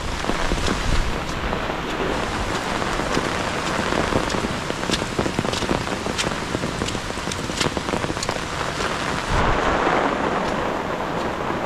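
Steady heavy rain pours during a typhoon in a rural farm setting, a dense continuous hiss with scattered drop impacts and a brief swell near the end, no voices.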